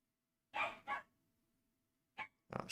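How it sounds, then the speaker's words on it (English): A small dog yaps nearby, with two quick sharp barks, a pause, then two more barks, clear against an otherwise quiet room. "my dog is yapping"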